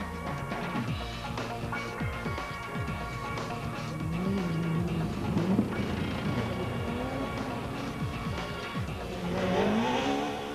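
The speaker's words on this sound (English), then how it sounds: "The spectators have a superb view of the action from the bridge on the Majaji Road as the cars sweep" Rally cars race along a course and sweep beneath a road bridge on the Majaji Road at the 2005 Tzaneen Rally, engines revving and rising in pitch as they pass loudly, with tyre noise throughout and no talk.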